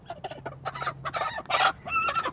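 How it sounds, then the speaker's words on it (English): Backyard chickens scuffling in a fight started by a rooster, with a dense jumble of sharp squawks, clucks and agitated cries crowding together, loud and close, rising to a burst near the end. "Chicken fight."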